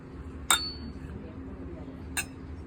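Glasses clink together in a toast at a campsite, two sharp bright chimes about a second and a half apart over a low steady background hum.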